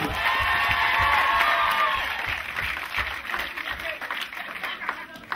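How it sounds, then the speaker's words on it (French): A TV show studio audience applauds and cheers loudly, a dense roar of clapping with whoops and shouts that holds strong before easing slightly, with voices mixed in. "On les applaudit bien fort."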